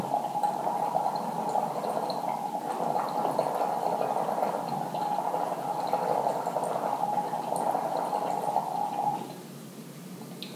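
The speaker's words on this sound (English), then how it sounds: "One can try this with a glass of water and a straw." Air blown through a straw into a glass of water makes a steady, close bubbling that runs for about nine seconds before fading to a softer hiss.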